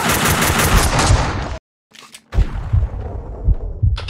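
Rapid automatic gunfire from the video game Max Payne 2, loud and dense bursts that cut out briefly to near silence, then resume with sharp repeated shots and booming impacts.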